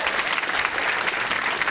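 A crowd claps enthusiastically at a live ballroom dance competition event, a dense, loud, even burst of applause that fills the whole brief moment.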